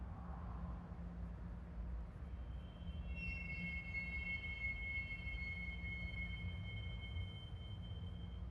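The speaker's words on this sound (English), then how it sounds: "a train is either arriving to the east receiving yard or maybe bypassing the facility" A freight train rolls in at the Chicago Clearing hump yard, with a low continuous rumble of railcars and high thin wheel squeals sustained over the second half, heard from a moderate distance without talk.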